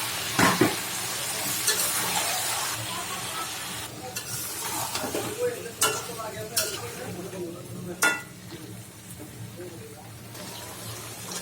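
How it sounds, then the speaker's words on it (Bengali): Bottle gourd and chicken sauté in a pan with a steady sizzle, broken by loud metal spatula scrapes and knocks against the pan. A voice speaks intermittently over the cooking. "আমার লাউ কষানো হয়ে গেছে"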